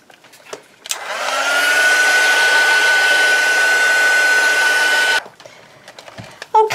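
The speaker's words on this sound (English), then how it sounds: "I'm just going to put on my heat gun and just dry off" A heat gun runs for about four seconds to dry ink on junk journal ephemera, a loud steady whirring blast with a faint whine that starts abruptly and cuts off, between small handling noises.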